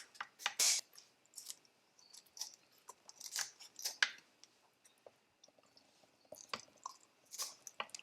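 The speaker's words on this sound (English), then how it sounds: "It's very easy with a pair of scissors." Close, crisp snipping and crunching sounds come in irregular bursts as scissors cut through a raw fish's fins and tail, with short pauses between cuts.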